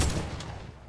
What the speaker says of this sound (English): if you are shooting it and holding down,